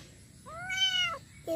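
A kitten gives a clear, close, rising-and-falling meow, followed by the start of a second shorter cry, against quiet background hiss.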